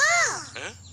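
An animated cartoon parrot gives a sharp, raspy squawk, a single swooping call followed by a shorter, rougher note, loud and near, with no voices.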